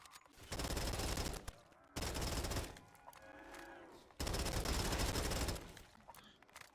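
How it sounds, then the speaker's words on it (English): Long sustained bursts of AMAX automatic rifle fire from Call of Duty: Modern Warfare 2019 Gun Game on Kino der Toten, loud and dense, separated by short gaps and a quieter stretch with other game sounds. "I feel like this AMAX kind of slows me down a little bit while I'm firing it."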